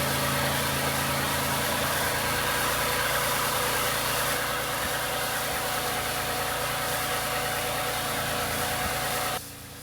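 A Lexus RX 350 engine idles steadily for nearly ten seconds, a dense, even mechanical hum heard close with no talking, dropping away abruptly at the end.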